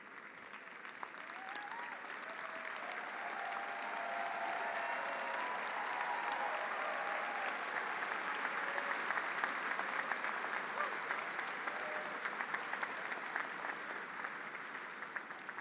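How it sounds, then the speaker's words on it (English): Audience applause for graduates at a Virginia Tech graduate school commencement, a broad, sustained wash of clapping from a large crowd, steady and dense, swelling slightly midway, with faint murmuring voices beneath. "a hearty round of applause for our new PhD and EDD recipients"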